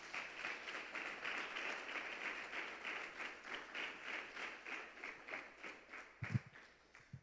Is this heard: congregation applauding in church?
yes